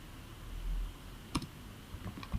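Someone types on a computer keyboard in a quiet room, faint, scattered key clicks with a couple of sharper taps.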